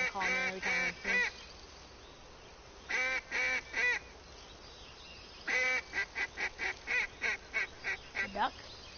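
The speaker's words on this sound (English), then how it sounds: "It's my duck call." A duck call blown in a hunting simulator game sounds in honking bursts: a few quick quacks, a pause, another group, then a longer rapid string of nasal calls, close and loud.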